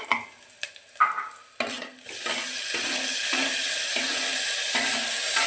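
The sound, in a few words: tomatoes tipped into a hot pan and stirred, sizzling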